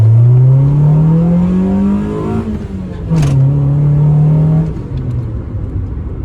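A Honda Civic EK fitted with an eBay exhaust header revs nearby, its engine note climbing, dipping briefly, then rising again before settling into a steady drone, loud and alone.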